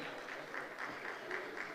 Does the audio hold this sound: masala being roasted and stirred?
no